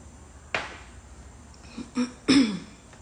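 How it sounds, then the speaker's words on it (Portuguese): Someone gives a few harsh, barking coughs and throat-clearing bursts, close and separated by short pauses. "E segue com a tosse de cachorro."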